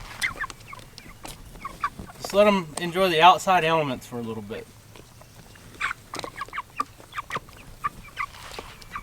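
Cornish Cross meat chickens cluck outdoors in short scattered bursts, with someone talking over them for a few seconds in the middle.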